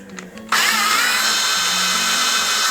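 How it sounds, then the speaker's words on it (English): A power drill drilling out old rivets on a snowshoe binding starts abruptly and runs at a loud, steady whine, close by, with a faint hum beneath and no speech. "finish drilling out all of our old rivets."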